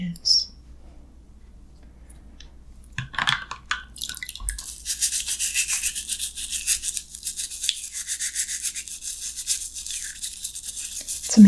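A toothbrush scrubs keyboard keycaps: a few soft taps and a brief low voice, then steady, close bristle-scrubbing that continues without a break for the rest of the stretch.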